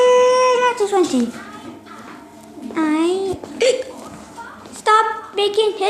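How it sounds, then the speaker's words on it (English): A cartoon Numberblocks character hiccups repeatedly between bits of its own childlike speech, each hiccup a short, abrupt squeak that breaks up the talking. "stop making hiccups"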